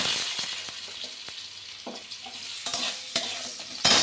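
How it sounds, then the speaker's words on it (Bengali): A spoon stirs vegetables frying with fennel seeds in a pan for spinach ghonto, the steady hiss of sizzling oil broken by scattered scraping taps against the metal. "আর মৌরি ফোড়নে দিয়ে দিলাম, দিয়ে ভালো করে নেড়ে নিলাম।"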